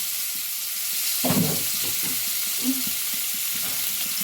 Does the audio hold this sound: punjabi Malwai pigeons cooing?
no